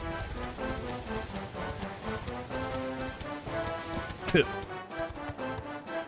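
Steady horse hooves clip-clopping in an even trotting rhythm in Dragon Quest XI, under game music with a brief sharp effect near the end.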